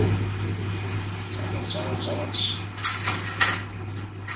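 A spoon clinks against dishes while someone tastes homemade liver bhuna curry: a few light, sharp metallic taps close by, over a steady background hum and soft household noise.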